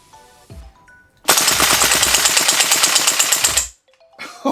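An Umarex HK G3A3 gas blowback airsoft rifle fires on full auto: one sustained, loud rapid burst lasting about two and a half seconds, with quiet pauses and faint tones before and after.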